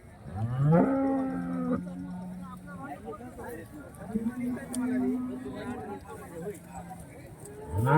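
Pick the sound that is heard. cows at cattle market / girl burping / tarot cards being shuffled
cows at cattle market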